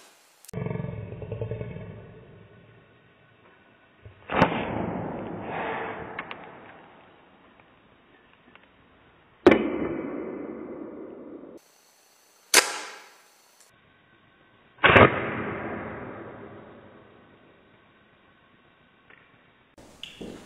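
Ethanol vapour bottle rockets fired along a string on a straw give several sharp whooshing bursts, each a sudden loud rush that fades over a couple of seconds, with quiet gaps between.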